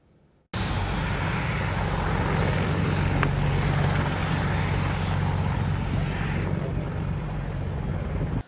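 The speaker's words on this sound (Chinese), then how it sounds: "撤退军机起飞必须由直升机半飞清空跑道" A military evacuation aircraft takes off from Kabul airport with a loud, steady engine roar that begins abruptly and holds at full power, a deep low drone under a broad rushing whine, with no talk.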